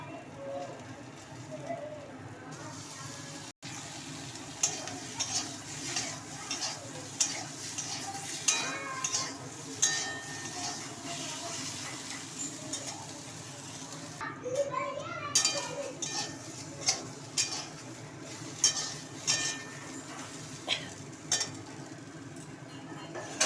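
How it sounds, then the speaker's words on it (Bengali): Cauliflower frying lightly in oil in a wok with dried chillies and black cumin seeds, heard as a soft, steady sizzle under repeated utensil scrapes and clinks of stirring, with talking over much of it. "সাথে ফুলকপিগুলো দিয়ে দেবো"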